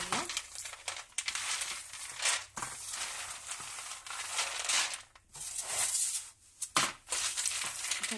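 Dried coconut being peeled by hand gives close, crinkly cracking and crumbling sounds in irregular bursts, with brief quiet gaps and some speech in between.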